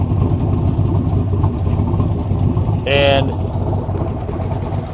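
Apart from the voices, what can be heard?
1966 Corvette Stingray engine started and running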